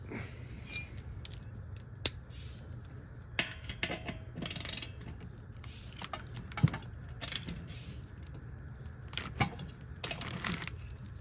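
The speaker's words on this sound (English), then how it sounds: "on these, you're going to be needing a 12mm socket" A ratchet with a 12mm socket works loose bolts on a 212cc Predator clone engine, giving scattered metallic clicks, short ratcheting bursts and clinks of tools close by. There is no talk.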